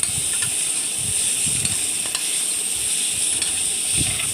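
Two large, finely chopped tomatoes sauté in a hot pan as a steady, close sizzle and hiss, broken by soft scraping and occasional clicks from stirring.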